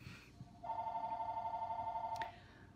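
A telephone rings indoors beside someone crocheting, a steady electronic warble lasting under two seconds that stops abruptly, near and clear over a quiet room.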